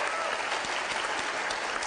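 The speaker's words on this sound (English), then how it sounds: "Let's give her a big round of applause." Brief burst of steady, close audience clapping at an Asian heritage spotlight event, dense and even throughout with murmuring voices faintly underneath.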